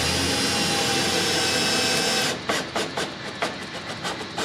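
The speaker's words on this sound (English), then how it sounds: "I'm pulling back this weather stripping and putting the screw right behind there" A power drill drives a screw into an exterior door frame behind pulled-back weather stripping, whirring steadily for about two seconds and then stuttering in short bursts as the screw seats.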